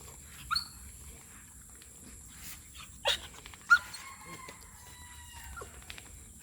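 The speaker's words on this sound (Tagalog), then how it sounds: "Tahol ka pa." A dog barks a few times in short, sharp bursts spaced well apart, with faint bird calls and a quiet outdoor background.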